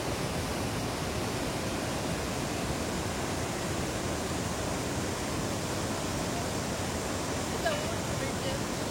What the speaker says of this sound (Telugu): చాలా పెద్ద వాటర్ ఫాల్,